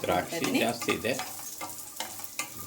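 Cashews and raisins fry in a pan for avalakki manohara, a sweet flattened-rice dish, crackling and sizzling up close as they are stirred, with quick scraping strokes.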